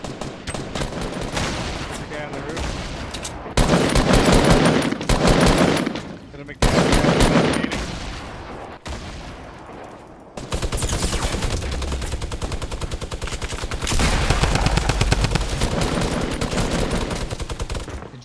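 Gunfire in the video game Fortnite, loud rapid bursts of machine-gun style shots in several long volleys with brief gaps, busy and close throughout.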